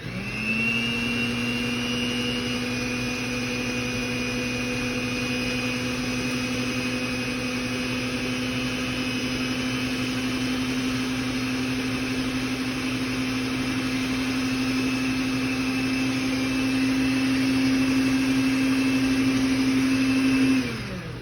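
An electric mixer beats batter after milk is added, producing a loud, steady, close whine at a constant speed for about twenty seconds. It winds down at the end.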